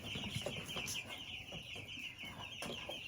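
Meat chickens in a muddy coop cluck softly and intermittently amid a constant high hiss, faint and close with no talking.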